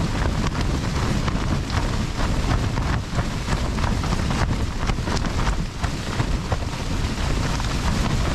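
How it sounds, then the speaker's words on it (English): Storm-force wind roars steadily over a tent on the snowy summit of Blencathra during a winter camp, a loud continuous buffeting rush with gusty fluctuations and fabric flapping throughout, no voices. "At least the wind's sort of passing over the tent a little bit better now."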